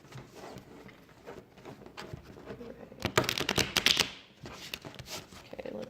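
Tarot cards are shuffled by hand in a series of quick riffles and flutters, loudest in a dense burst midway, with softer card handling before and after.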